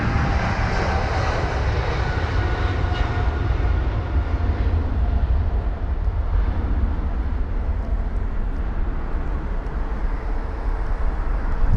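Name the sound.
Air Canada Boeing 777-300ER jet flight to Toronto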